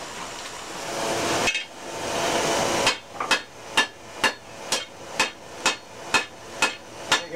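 Hot steel being forged into a froe on an anvil: after a stretch of roaring background noise, a steady run of about ten sharp, ringing hammer blows lands in even rhythm, close and clear, with no talking.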